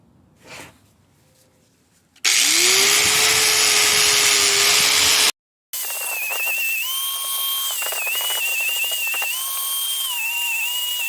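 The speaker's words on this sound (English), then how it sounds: "I'm going to be using my high-speed angle grinder, which is just quicker and better, and will do a better job in a short amount of time" A high-speed angle grinder cleans rear brake calipers and rotors on a Mercedes GLK X204, a loud, steady whining roar that cuts out briefly, then resumes with a shifting pitch as it presses against the metal.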